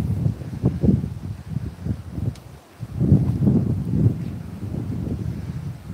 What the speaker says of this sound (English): It's windy, but you can still... The wind sounds wild.